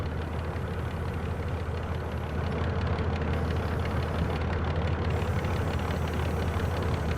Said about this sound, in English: Right, the engine's running.